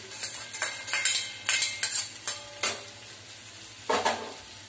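Roasted okra tipped into a pan of reddened fried onion and stirred, a series of scraping, clattering utensil strokes with light frying underneath, close and steady, no talking.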